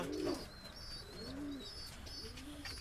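A pigeon coos several times in a breeding loft for high-flying pigeons, soft low rolling calls over faint background hiss and thin chirps.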